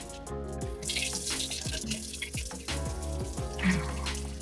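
Tap water running steadily into a sink while freshly harvested chives are rinsed, a continuous close splashing stream with bursts of sloshing and spattering as the bundle is moved under the flow.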